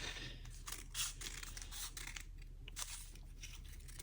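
Scissors snip through paper laid on a table, producing a series of faint, crisp cutting crunches in bursts, close by and quiet, with no talk.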